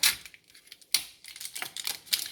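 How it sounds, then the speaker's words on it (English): Scissors snip and rustle through the plastic seal on an ice cream carton in a kitchen, a series of crisp irregular cuts and crinkles close by with no talking. "I'm gonna cut this seal off"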